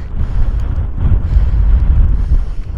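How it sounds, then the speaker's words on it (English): Strong wind buffets the microphone outdoors in muddy, rainy coastal weather near John o' Groats in Scotland, a loud continuous low rumble that swells and eases, with no voices. "It's muddy, rainy, windy."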